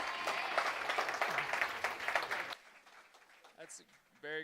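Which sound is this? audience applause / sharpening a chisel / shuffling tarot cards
audience applause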